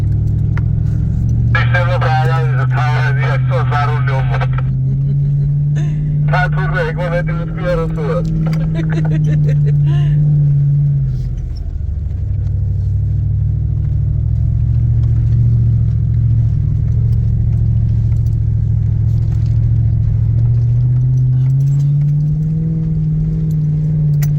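A car labours along a difficult mountain road in Guria, its engine a loud continuous drone that dips and rises with gear changes, with rattling and jangling at the start.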